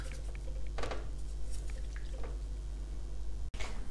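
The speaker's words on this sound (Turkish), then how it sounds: "Muhallebim kaynamaya başladı. Şöyle göstereyim. Çok güzel oldu kıvamı. Bakın iyice kaynıyor şu anda." Muhallebi, a thick Turkish milk pudding, boils in a pot on the stove, giving a steady stream of soft bubbling and popping with occasional wet plops, close and moderately loud.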